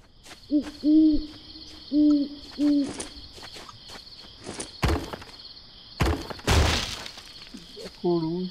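Owl hooting in a survival video game: three clear, close hoots in quick succession, followed later by thuds, knocks and a crash of breaking sounds in the game.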